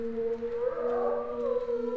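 Dogs howl in the VR horror game Home Sweet Home VR, a steady, drawn-out, siren-like wail with sustained tones rising and falling slightly across two seconds, fairly loud, with no talk over it.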